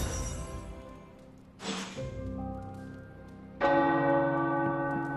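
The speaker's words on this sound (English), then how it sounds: "The tower bells are ringing." Tower church bells ring out in Marvel's Midnight Suns, sustained clear tones with a loud new strike partway through, overlapping and decaying, with no voices.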